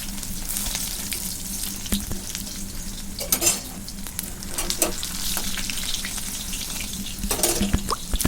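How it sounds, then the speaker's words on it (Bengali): Pumpkin leaf parcels filled with mustard paste fry slowly in hot white oil in a kadai. A steady, bubbling sizzle carries occasional louder crackling bursts, with faint clatter from handling. "দুই পাশটায় সোনালি ও মুচমুচে হওয়া পর্যন্ত ধীরে ধীরে ভেজে নিতে হবে।"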